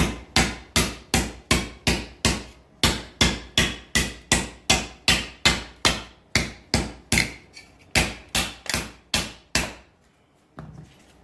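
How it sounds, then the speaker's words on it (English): Sharp, ringing hammer blows on the sheet metal edge of a 1913 Duesenberg cyclekart body, about twenty evenly paced strikes close up, briefly pausing near the end before one last faint tap. "now we're going to attempt to lock that in by hitting the edge of it and then hammering it down"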